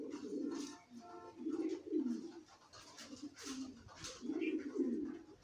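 Racing pigeon, an older cock bird in moult, cooing in a loft: repeated low throaty coos in rolling bursts across the clip, close and fairly loud, with light chirps from other birds in the background.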